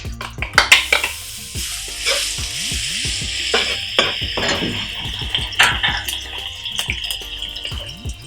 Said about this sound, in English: just saute the garlic and ginger all together.